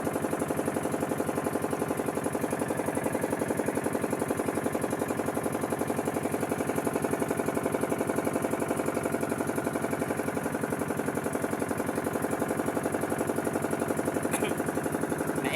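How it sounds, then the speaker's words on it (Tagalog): A small wooden motorboat's engine drones steadily and loudly from start to end, with a fast, even chugging pulse and no pauses. "Maingay ang aming bangka kay Maki naman."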